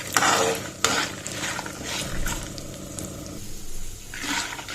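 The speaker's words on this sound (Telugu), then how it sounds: "ఒక గుప్పడు పల్లీలు వేసుకుందాం మనం ఇలా మంచిగా ఫ్రై అవ్వనిద్దాం" A handful of peanuts fry in a pan with fenugreek and coriander seeds for a tamarind-leaf chutney, with a soft steady crackle and a few clattering stirs against the metal, close and continuous without speech.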